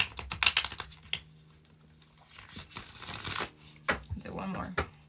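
A deck of cards shuffled during a card reading, bursts of riffling and flicking cards close by, in several quick bouts separated by pauses, with the sounds alone and no talking.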